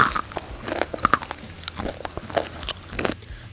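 Loud, close crunching bites into crispy Korean fried chicken (dakgangjeong), sharp crackles followed by chewing, repeated several times with no talking.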